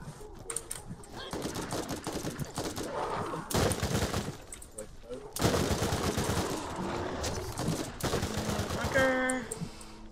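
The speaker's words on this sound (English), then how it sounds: "Lots of shots." Gunshots in the Borderlands video game, with rapid bursts of automatic fire and single shots clattering in uneven volleys, loud and close, over game ambience with a short electronic chime near the end.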